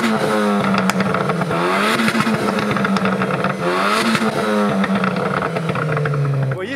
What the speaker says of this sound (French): mets-moi 2-3 petits coups de gaz avec la tienne,